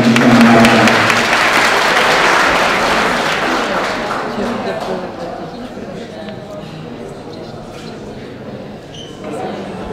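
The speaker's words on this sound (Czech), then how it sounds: "Takže poprosím o velký potlesk pro sportovní legendu města Chýnova." Loud audience applause for a town's late sports legend at a local event, starting strong and gradually fading over several seconds while a voice begins speaking beneath the thinning claps.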